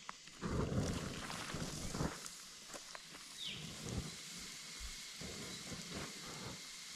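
Water poured from about a litre or so onto the last few campfire embers at a scout campground, giving a steady broadband hiss of steam with soft sputters and crackles, close and moderately quiet, no talking.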